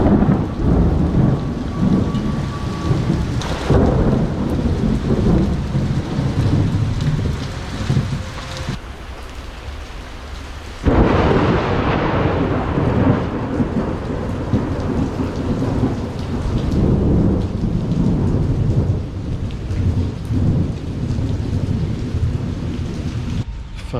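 A heavy thunderstorm in Jakarta brings steady loud rain with deep rolling thunder that swells near the start and cracks sharply midway, then keeps rumbling under the downpour.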